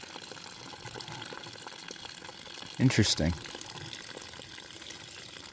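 Water flows steadily into a drainage pit under a structure, a constant soft rushing wash throughout. A person briefly speaks over it partway through.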